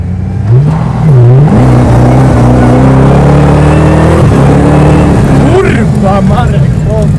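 An untuned car engine on a self-built Nightride car revs and drops in pitch repeatedly, loud and close, with a voice talking over it for much of the time.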